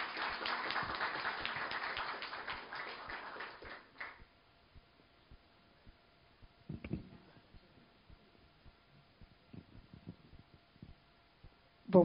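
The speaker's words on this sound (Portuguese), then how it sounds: "Aplausos de boas-vindas à Flávia Queiroz" Applause welcoming Flávia Queiroz at a literary soirée bursts out for about four seconds, then dies away into a quiet room broken only by a few faint scattered knocks and shuffles.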